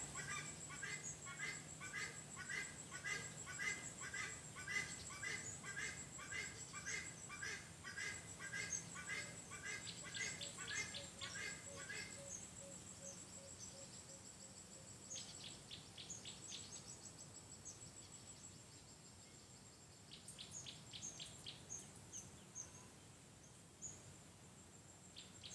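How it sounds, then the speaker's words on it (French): Dense outdoor birdsong with rapid repeated chirps and trills layered over a steady insect-like buzz, continuous and fairly loud throughout with no speech. "restez toujours concentré sur le langage des oiseaux à travers le chant"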